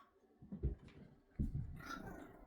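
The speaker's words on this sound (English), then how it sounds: "Zoomies and barking, and it's not even the mailman." Dogs barking in short bursts at home during playful zoomies, a few close, moderately quiet yaps separated by brief pauses.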